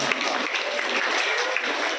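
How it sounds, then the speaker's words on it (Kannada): Continuous applause from an audience at a school Sharada Pooja function, a dense, steady wash of many hands clapping for the parents throughout. "ದಯವಿಟ್ಟು ಇವ್ರಿಗೆಲ್ಲರೂ ಒಂದು ದೊಡ್ಡದಾದ ಚಪ್ಪಾಳೆ ಕೊಡಿ"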